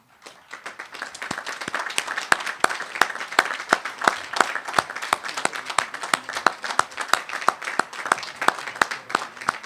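A crowd at a school commencement ceremony claps steadily for standing alumni, with a brisk run of sharp individual hand claps that holds moderately loud from start to finish.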